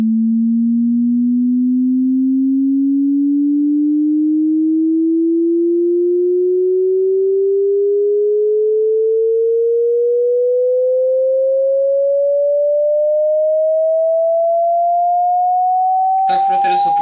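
A single pure sine tone glides steadily upward in pitch from low to higher over about sixteen seconds, loud and clean, ending in a brief burst of noise.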